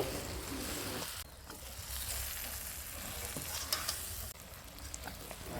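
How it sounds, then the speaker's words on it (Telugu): Fish coated in masala fries quietly in a pan while it is stirred, a soft continuous sizzle broken by scraping strokes and a few small clinks. "ఇప్పుడు ఈ మసాలా అంతా చేపలకు బాగా పట్టేంత వరకు బాగా ఫ్రై చేసుకుంటూ ఇలా కలుపుకోవాలండి"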